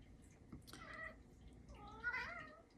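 A cat meows twice, soft and drawn out, with a short pause between the calls against quiet background noise.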